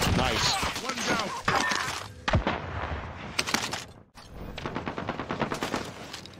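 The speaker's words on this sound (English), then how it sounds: "Being shot at from here." Gunfire in Call of Duty Warzone: rapid bursts of shots and sharp cracks, close and loud, with an irregular rhythm across the clip and players talking over it.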